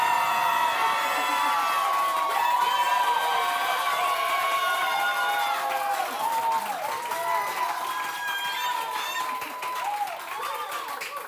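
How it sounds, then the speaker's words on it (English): An audience at a musical show at 54 Below claps and cheers in a sustained burst, dense applause filling the room with whoops and a sung or held note riding on top, fading slightly toward the end. "If this is your favorite, clap now."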